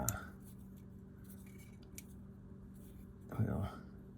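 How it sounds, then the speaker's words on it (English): Scissors snip off excess fishing line on a Zebco 55 reel during servicing: a short, close cutting sound near the end, over a quiet indoor background with faint vocal sounds. "let's cut off this excess here"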